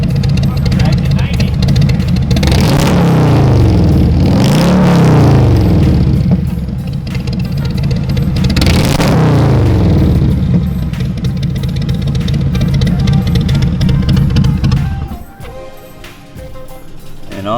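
A Harley Davidson Tri Glide with hollowed-out factory pipes, baffles and fiberglass removed, revs loudly up close, its exhaust rumbling in several rising and falling throttle blips before settling to an idle, then cutting off near the end.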